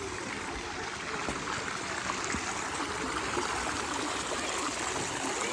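Steady rushing of the waterfall at the Emerald Pools in Zion National Park, broadband and continuous, heard close with no talking.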